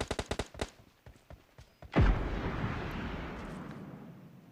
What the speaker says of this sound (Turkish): Abi abi adam bana roket atıyor.